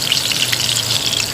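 Chicken seekh kababs fry in a pan over low heat, giving a steady, close sizzle and crackle of hot oil that runs unbroken through the short moment.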